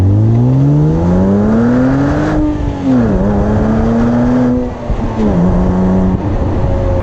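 A Porsche 987 Boxster S six-cylinder engine revs up and down in long, loud sweeps, its rasping, buzzy tone rising and falling with no one speaking.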